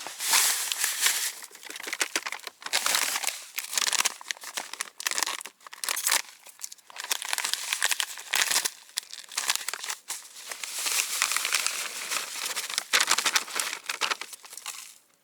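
Dry fishing groundbait pellets and crumbs pour and rustle out of crinkling plastic packets, with bursts of rattling and crackling close by, pausing briefly between pours.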